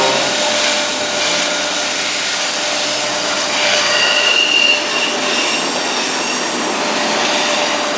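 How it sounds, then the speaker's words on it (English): A freight train pulls up out of a rail yard in Atlanta, its steady loud rumble filling the scene with high wheel squeal and a brief sharp screech midway, no voices heard. "3 trains within 5 minutes, all pulling up out of the yard, coming out of nowhere."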